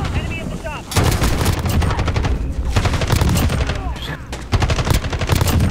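Holger light machine gun firing in a team deathmatch game at Cheshire Park, loud sustained automatic bursts with brief pauses, close and dominant throughout.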